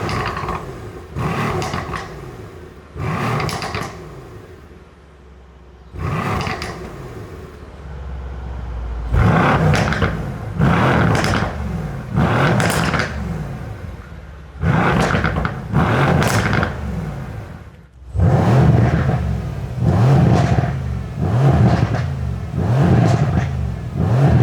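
A Mercedes C63 S with a modified louder exhaust in race mode barks through a series of sharp, loud revs, each rising and dropping quickly, spaced at first then coming in rapid succession.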